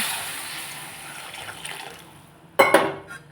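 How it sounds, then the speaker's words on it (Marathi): Water runs steadily into a pan of aubergine curry, then a sharp clatter of metal cookware near the end. "पाणी टाकल्यानंतर चांगलं मिक्स करलेस"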